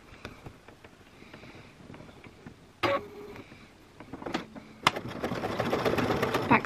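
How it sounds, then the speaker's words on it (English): A sewing machine with a blind hem foot stitches fabric and bias binding, starting with light ticking and shifting into a steady close whir of running stitches. "You're then going to run this under your sewing machine with this, the guide from the blind hem foot, right up against the edge of the bias binding"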